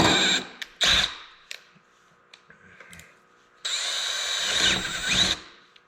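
Power drill boring with an 11/64 bit, with short whirring bursts and trigger blips early on, then a sustained high-pitched run of about two seconds, close and loud.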